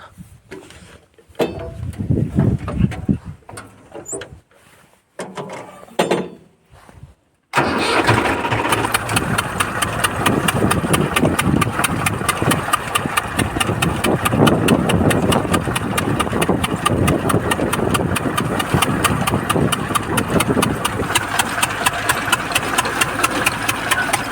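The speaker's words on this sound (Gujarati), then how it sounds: "ચાલો આપણે રિવેશ મારી દઈએ આ ટ્રેક્ટરનો" After a few seconds of scattered knocks and talk, a tractor's diesel engine starts and runs loudly and steadily with a rhythmic chugging as it reverses, close by.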